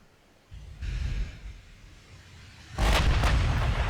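Naval guns fire a broadside in the warship game Ultimate Admiral Dreadnoughts: a low booming rumble, then a second heavier burst of loud blasts with a sustained roar, no talk.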